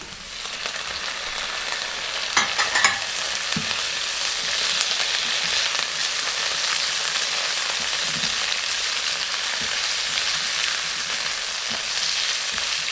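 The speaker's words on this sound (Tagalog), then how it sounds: "We can cook this onion until silhouette. Then add the shrimp." Onion and shrimp stir-frying in a hot pan for udon noodles give a steady, close, dense sizzle throughout, with a few brief clinks of stirring near the start and no talking.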